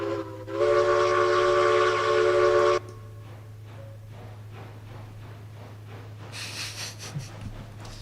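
A long train in a railroad video game gives a loud, steady horn blast for about two seconds, then rolls on with rhythmic wheel clatter and engine rumble, ending with a brief higher hiss.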